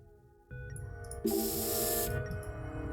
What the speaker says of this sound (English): luminol spray probably comes next